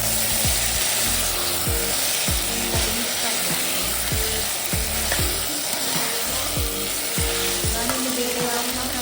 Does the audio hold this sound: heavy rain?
no